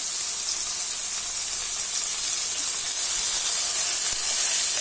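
Ginger, garlic and green chilli paste frying in a pan, a continuous bright hiss and sizzle holding steady throughout, close and unbroken, with no speech.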